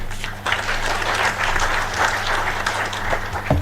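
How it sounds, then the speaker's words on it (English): Applause from the audience at a public service superannuation scheme meeting, dense continuous clapping from a crowd, fairly loud and even throughout, with a low steady hum beneath. "Let's clap for Rono once more"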